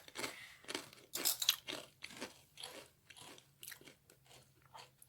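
Doritos chips dipped in salsa crunch loudly and close up in a series of sharp bites followed by steady chewing, with no talking.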